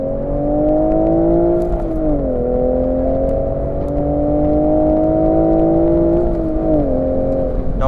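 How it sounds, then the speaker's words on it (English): The exhaust of a manual Toyota Supra MKV drones steadily and close, its pitch dipping and rising slightly as the revs shift, with faint crackles on top. "And if we head back to the exhaust system, it sounds pretty good."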